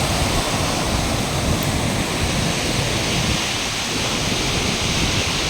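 Ocean surf breaks on a beach across from a Shiva temple, a continuous loud roar and wash of waves with no voices.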